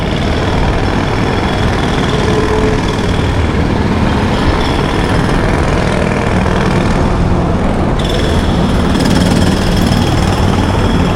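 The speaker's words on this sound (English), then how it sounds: "There you hear the New York sounds of construction." Dense, continuous jackhammer pounding from street construction mixed with steady traffic and engine rumble on a busy New York City street, loud throughout with no voices.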